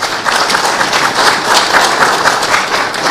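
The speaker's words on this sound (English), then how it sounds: "May we accord the CSs a hearty round of applause." Hearty applause from an audience at a handover ceremony, steady dense clapping that fills the whole stretch at a loud, even level.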